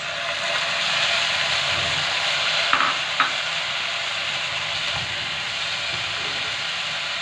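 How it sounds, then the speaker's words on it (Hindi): Vegetables being stir-fried with salt, black pepper, soy sauce and vinegar for chicken egg fried rice, a constant, fairly loud hiss of sizzling with two brief clinks of a spatula partway through. "और इसको अच्छे से मिक्स करके फ्राई कर लेंगे।"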